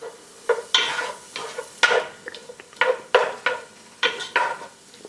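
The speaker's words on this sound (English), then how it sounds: "And we're going to saute these." Ingredients for black-eyed peas sautéing in a pan, with a utensil scraping and stirring in repeated bursts over a low sizzle, close and fairly loud.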